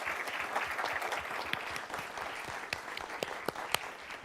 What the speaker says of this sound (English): can we give a round of applause to everyone up here tonight?